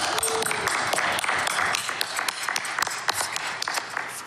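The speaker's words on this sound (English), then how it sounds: "round of applause for Mrs. Luckborn." A room of people at a school board meeting clapping, with distinct sharp claps standing out over a softer, uneven patter of applause.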